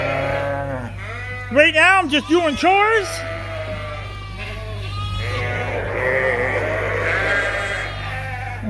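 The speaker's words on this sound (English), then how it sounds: "We're going to have to move these sheep tomorrow." Ewes bleat in a barn, several loud, overlapping calls in quick succession early on, then fainter bleats. A person speaks over a steady low hum from the barn.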